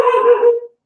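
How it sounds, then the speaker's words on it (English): A single short dog bark or yelp at a neighbor child playing outside, close and loud, a sharp tonal burst lasting well under a second and trailing off. "The neighbor kid is playing outside and Cookie keeps barking at him"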